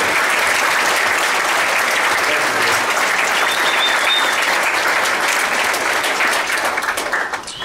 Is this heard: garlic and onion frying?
no